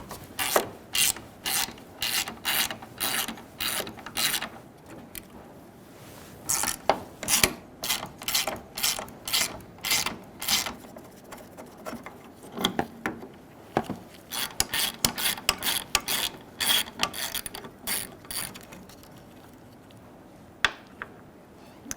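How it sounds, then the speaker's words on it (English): A ratchet with an 8mm socket backs out bolts on a 2000-2007 Ford Taurus while the hood release handle is being replaced: close, rapid metallic clicking in repeated bursts, with short pauses between strokes and no talking. "Using an 8mm socket, we're going to take out these bolts"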